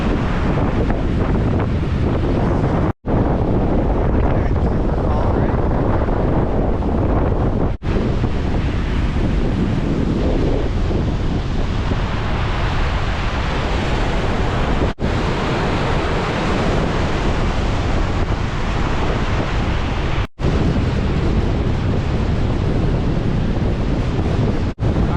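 Waves and wind roar on a cold Lake Michigan beach in October, a loud, continuous wash of surf with heavy wind buffeting the microphone, no voices.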